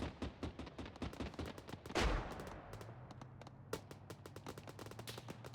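Gunfire in the military video game Arma 3 rings out as rapid bursts of sharp shots with a heavy blast partway through, loud and dense, over a low engine drone.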